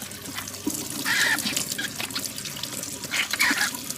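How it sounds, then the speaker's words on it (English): Water poured into a container, a loud splashing, gurgling flow with trickles and brief bursts, heard up close and uninterrupted by talk. "You can hear the water going in."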